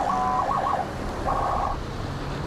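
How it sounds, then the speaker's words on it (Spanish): An armoured car's siren system sounds two warbling electronic bursts separated by a short gap, loud and close over faint road noise. "Un sistema de sirena para llamar la atención y que la policía llegue antes."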